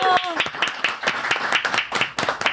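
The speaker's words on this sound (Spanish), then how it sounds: "Con un gran aplauso." Studio audience applause greets guest Pedro Carcuro on a Chilean late-night talk show, a brisk run of close, sharp claps that follows a voice at the start and continues steadily for a couple of seconds.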